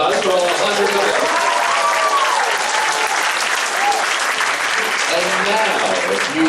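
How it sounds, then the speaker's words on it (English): An audience applauds a beginning and chamber orchestra of about a hundred young players, a steady, dense wash of clapping from a large crowd that stays loud and even throughout. "Big round of applause for all 100 of them."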